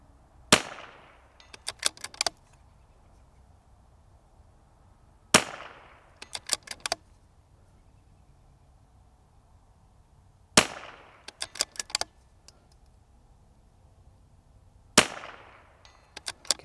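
Rifle shots ring out at steel plates 150 yards away: four sharp single cracks spaced several seconds apart, each followed by a quick cluster of faint metallic echoes and distant pings.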